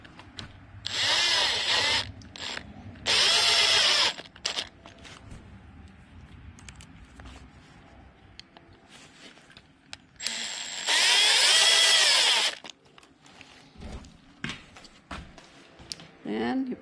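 A power drill drives screws down into a wooden carpenter bee trap in three loud, close whirring bursts of one to two seconds each, with quieter handling and clatter between them and people talking in the background.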